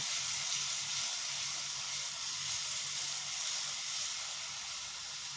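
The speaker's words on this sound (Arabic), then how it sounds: "انا حاطه بطاطسيه على النار، سيبها لما تتحمر" Potatoes frying in a pan on the stove give a steady, soft hiss and sizzle that runs unbroken throughout, with no talking.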